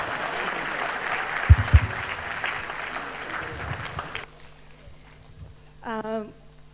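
Audience applause at a Rotary Club event, a dense wash of clapping for about four seconds before fading into quieter room sound with a brief voice near the end.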